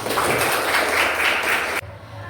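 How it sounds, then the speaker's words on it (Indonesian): A class of schoolchildren claps together at close range, a dense burst of applause that stops abruptly partway through, leaving quieter room noise. "Tepuk tangan untuk kita semuanya"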